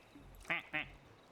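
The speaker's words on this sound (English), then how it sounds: "And I did hear the bird." Two short, nasal quacks from a cartoon duck in a video game, close and clear, spaced a fraction of a second apart over a low hum of game background.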